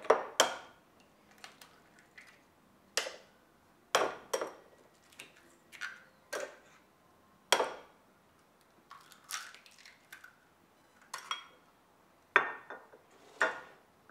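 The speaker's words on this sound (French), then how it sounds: "on va mettre le sucre avec la farine et on va casser 3 œufs avec" Three eggs are cracked into sugar and flour in a mixing bowl for a chocolate and tonka bean cake: sharp, scattered taps and cracks against the bowl, each followed by faint wet squishing, close and fairly quiet, no voices.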